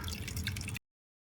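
Liquid dripping and squishing out of soaked onion peels being squeezed, a brief close burst of wet trickling and drips that stops abruptly after under a second, followed by silence.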